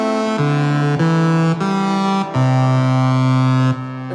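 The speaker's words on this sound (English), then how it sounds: "And then a simple sawtooth" A plain sawtooth wave played on a Hydrasynth digital synthesizer with no effects, a bright buzzy tone stepping through a short sequence of sustained notes, loud and alone.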